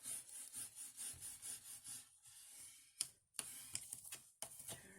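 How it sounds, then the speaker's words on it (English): Paper being burnished onto a greeting card with a tool, a steady run of soft close rubbing and scraping strokes, followed by a brief pause and a few sharper scrapes. "Turn around and burnish this side."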